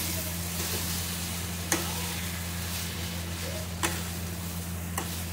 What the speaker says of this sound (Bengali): একটু ভাজা ভাজা করতে হবে মশলার সাথে